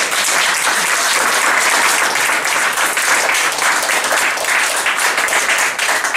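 A church congregation applauding, steady, loud and dense clapping from many hands that carries on without a break for several seconds.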